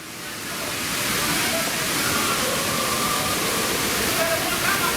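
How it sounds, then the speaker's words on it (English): Steady broadband rush of waterfalls in a themed area of the Universal Orlando theme park, a continuous close wash of falling water that swells in the first second and then holds level, with faint crowd murmur underneath. "All the waterfalls, and it's got a really nice atmosphere around this area."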